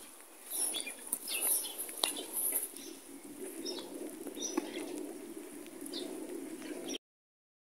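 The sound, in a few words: birds calling in the snow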